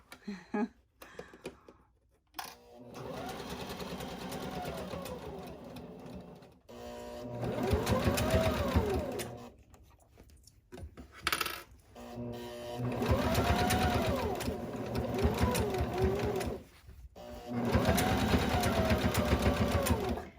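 A sewing machine back stitching a hobo tote bag runs in several bursts of steady whirring, a few seconds each, separated by short pauses, close and fairly loud.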